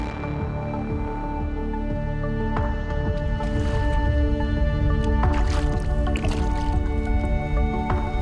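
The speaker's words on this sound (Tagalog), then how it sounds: "Tatlong oras magsasagwan sa dilim." Fishermen paddle a boat through dark water before dawn. Repeated squishing splashes and drips from the paddles sound close, over a steady low hum, with no voices.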